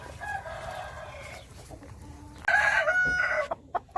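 Chickens cluck inside a chicken coop and a rooster crows loudly and close by partway through, followed by a few short clucks.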